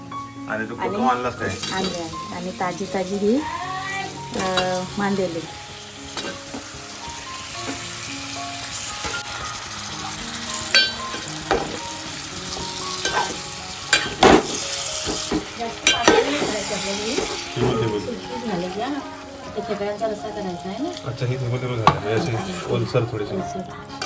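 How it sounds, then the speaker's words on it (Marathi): Onion and garlic tempering fries and sizzles in a pan in a village kitchen, with stirring and utensil clatter throughout, the crackle running steadily under near, continuous talk and background music. "कांदा कांदा आणि लसण्याची फोडणी"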